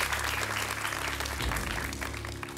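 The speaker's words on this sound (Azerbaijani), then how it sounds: "Əli Əkbər Quluzadəni alqışlayırıq." Crowd applause in a quiz-show studio, sustained and dense clapping from many people, fairly loud and steady from start to finish with no talking heard.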